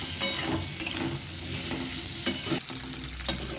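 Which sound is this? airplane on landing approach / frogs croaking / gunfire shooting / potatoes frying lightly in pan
potatoes frying lightly in pan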